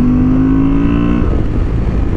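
Honda XL750 Transalp motorcycle from 2023 accelerating hard on a racing track, its engine a loud, close, steady roar with a rising tone that shifts partway through.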